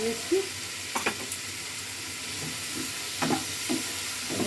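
Marinated mushrooms coated in Kashmiri chilli powder and garam masala sauté in a pan, with a steady low sizzle broken by scattered scraping stirs and clinks of a spoon, close and moderately loud.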